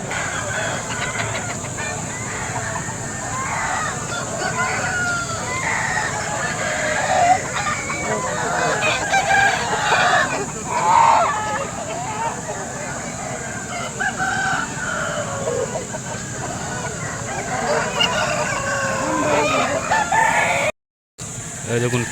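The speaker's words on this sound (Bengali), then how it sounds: "সম্পূর্ণ একদম নিরেট আসিল মুরগি ফাইটার মুরগি" Aseel fighter roosters crow at a busy rural livestock market in Poradih, Bankura, several loud crows and clucks rising over the steady crowd murmur and chatter of buyers.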